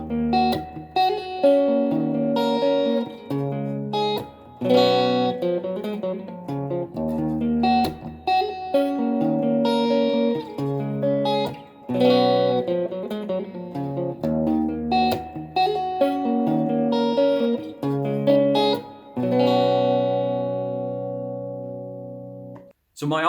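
An electric guitar plays a neo-soul style riff over an 80s metal chord progression, with percussive muted hits, rhythmic chord stabs and melodic fills, loud and close, ending in a ringing chord.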